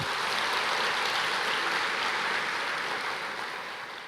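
A church congregation applauds in a steady, dense wash of clapping that holds evenly for several seconds before starting to fade.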